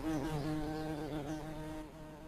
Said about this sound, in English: This is a female red mason bee